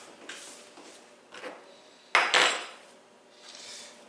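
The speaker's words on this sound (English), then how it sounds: "let me clean up my cutting board a little bit." Scraping and clattering as a kitchen cutting board is cleared off while peeling and cubing butternut squash, a few separate knocks and slides with one louder, sharper burst midway, no talking.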